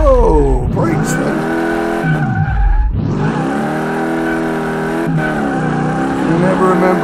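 A car skids loudly through a donut in the video game Car Mechanic Simulator 2018, with tires squealing in long sweeping tones while the engine revs and drops, the screech breaking off briefly before starting up again.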